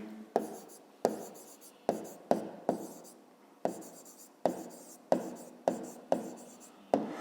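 Pen scratching an answer into a notebook for a fifth-grade maths problem: a dozen or so short, crisp strokes with sharp starts and brief gaps, close up and alone in a quiet room.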